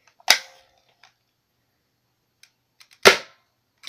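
Two sharp airsoft gun shots fire close by, roughly three seconds apart, each a crisp snap with a brief tail. Near-silence fills the gap between them, broken by faint small clicks.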